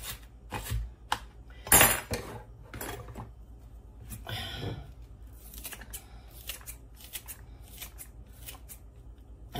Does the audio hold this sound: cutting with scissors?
yes